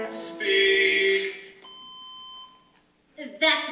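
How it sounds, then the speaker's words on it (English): A loud, steady electronic beep from an answering machine, sounding for about a second in the middle of a stage scene, with singing voices before and after it. "That was a very loud beep."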